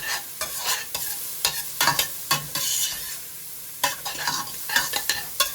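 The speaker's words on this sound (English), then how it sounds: "let's give this a stir" Peppers cooking in a pot are stirred with a spoon, giving a steady soft sizzle and a run of irregular scraping strokes close by.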